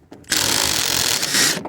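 A power impact gun with a socket spins on a VW Mk2 or Mk3 coilover, a single loud, sharp burst of about a second and a half, close to the listener.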